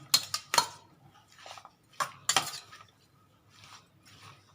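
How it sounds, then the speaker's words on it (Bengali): Ladle clinks and scrapes against a pot while soft fish curry is gently mixed with chopped onion, a few sharp metallic taps separated by quieter stirring, close and fairly faint. "হাতা দিয়ে মেখে নিই"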